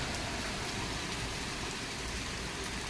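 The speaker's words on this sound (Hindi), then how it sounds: "बहुत सुंदर बारिश हो रहा है आप सबके बीच में" Steady rain falls in a continuous, even hiss, close and fairly loud, with no voices.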